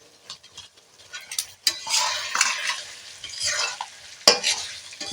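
Potatoes frying in a pan over a clay stove, heard as close sizzling with stirring scrapes and utensil clinks against the pan. The sizzle swells and fades unevenly, and there is no talking.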